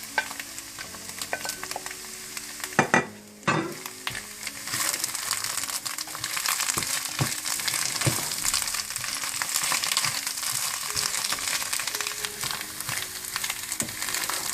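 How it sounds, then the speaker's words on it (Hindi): Spinach frying in a pan with green chilies, cut ginger and coriander for dhaba palak gosht: loud utensil clanks early, then a continuous close sizzle with steady stirring and scraping, no talk. "पालक को भी अच्छी तरह से भूनने के बाद आप इसमें हरी मिर्चें, कटी हुई अदरक और हरा धनिया ये भी मिक्स कर दें"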